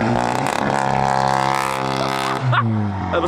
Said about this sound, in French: ça c'était le bruit du launch, ça m'a explosé les tympans